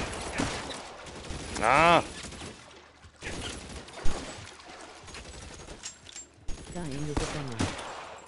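Gunfire in the VR detective game L.A. Noire: The VR Case Files, scattered sharp shots and impacts between stretches of quieter game ambience, with a brief exclamation and spoken comment over it.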